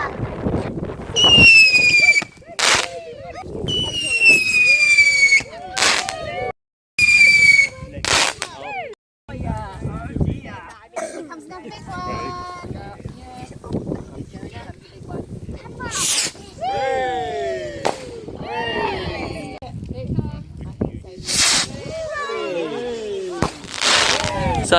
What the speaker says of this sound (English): So, how did the fireworks go,